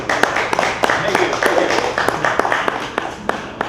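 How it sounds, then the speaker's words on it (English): Scattered, uneven hand claps from a small audience at a book signing for a book about the SS United States ocean liner, with sharp individual slaps spread over a few seconds while voices carry on underneath. "I just think you deserve a round of applause."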